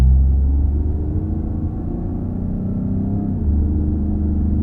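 A Ford Fusion fitted with an MRT Fusion Sport Version 2 axle-back exhaust gives a deep, steady low rumble, loud and close, with a slight swell in tone and no talking.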